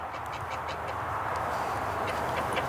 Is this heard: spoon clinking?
no